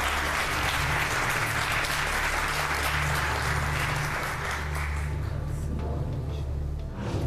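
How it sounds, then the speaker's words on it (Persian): Audience applause in a game-show studio, a dense burst of clapping that carries on loudly and then thins toward the end. "تشویقشون کنید بفرمایید."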